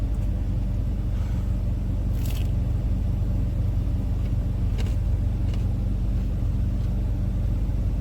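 A car engine idles close by with a steady rumble and the whoosh of air blowing through vents, broken by a few small clicks and scrapes.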